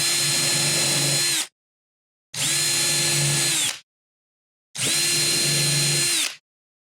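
Three evenly spaced bursts of a Ryobi power drill whirring while drilling pilot holes in wood, each lasting about a second and a half, with short silent pauses in between.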